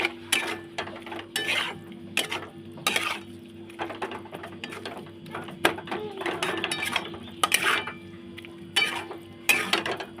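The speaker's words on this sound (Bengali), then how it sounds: "এটা বেশ করে নেড়ে নেবো মিশিয়ে নেবো এটা মশলার সাথে" Chicken mince being stirred with spices in a pan, with a utensil scraping and clattering against the metal in repeated bursts at close range and little else around it.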